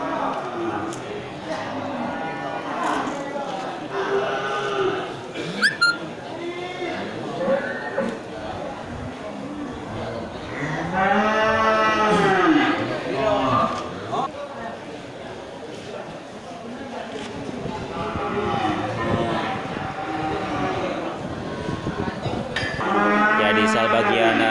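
Large cattle raised for slaughter moo again and again at a livestock market, some calls near and drawn out, others farther off, over a busy background with people talking.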